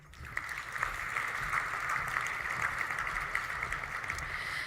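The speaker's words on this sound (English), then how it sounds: "A round of applause, please." Steady applause from an audience at an engineering excellence awards ceremony, greeting the finalists; even, sustained clapping fills the room at moderate level without a break.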